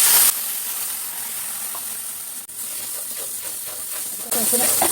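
Loud, continuous sizzling and hissing as jute greens hit a hot pan with fried prawns, with a brief dip midway and the frying swelling again near the end.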